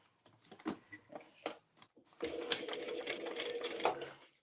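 A sewing machine stitches a bag, first with a few short taps and bursts, then a steady close whirring run of about two seconds, fairly quiet.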